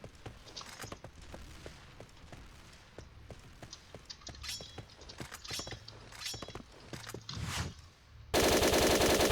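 Rapid gunfire in the Point Blank survival mode, bursts of automatic shots in quick strings with footsteps between, loud and close, ending in a sudden dense blast of noise.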